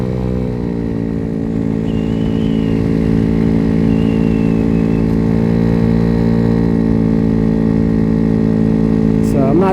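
A Dongfeng DF50SST 50cc motorcycle engine drones steadily and loud while riding, with a buzzy tone that rises and falls slightly as the revs shift, continuous throughout with no break.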